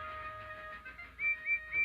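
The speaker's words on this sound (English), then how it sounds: ""Thomas is here," whistled Percy" A steam engine whistle, voiced as the character Percy in a Thomas the Tank Engine cartoon, gives three short high toots in quick succession at the end, following a steady tonal hum.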